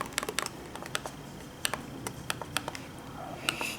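Sharp plastic clicks come in an irregular series, close and crisp, as the stiff touchpad buttons on a Lenovo Y530-15ICH laptop are pressed one after another.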